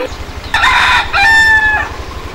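A rooster crows loudly and close by in two bursts, the second a long drawn-out call, with no talking.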